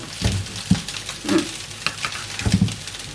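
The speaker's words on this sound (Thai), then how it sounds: "ใส่ผักชีลงไป แล้วก็คน" A spoon stirs a spicy dipping sauce of fish sauce and coriander in a bowl, giving soft, uneven scraping and swishing strokes with small clinks, close by and without talk.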